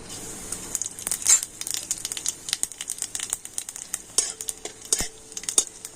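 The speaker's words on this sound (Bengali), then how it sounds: "আর তেলের মধ্যে আমি দিয়ে দিচ্ছি গোটা জিরে।" Whole cumin seeds crackle and sizzle in hot mustard oil in a pan, a dense stream of sharp close pops and spits over a steady frying hiss, with no talk.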